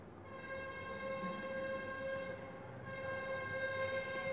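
A train runs on the rails with a steady rumble and a sustained tonal hum, heard at moderate distance and fairly quiet throughout.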